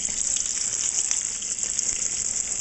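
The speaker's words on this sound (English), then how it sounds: "That's the sound of water boiling in grease." Water boiling and spattering in hot frying grease while panko shrimp fry, a steady dense crackling sizzle that runs evenly throughout, close and moderately loud, with no talking.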